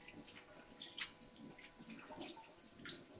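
Tap water running steadily while hands are rinsed, a faint continuous splashing and trickling with small drips and gurgles, low and close throughout with no talk.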